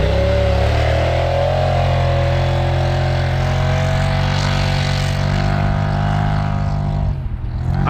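A 270 hp big-turbo Polaris RZR Turbo S UTV engine runs loud and close for about seven seconds with a steady high-revving drone, then drops off sharply near the end.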